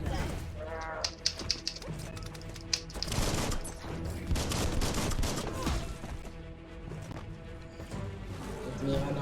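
Gunfire in the video game Biomutant crackles through a dense, loud mix of game sound, with sharp shots and impacts landing over constant effects and music.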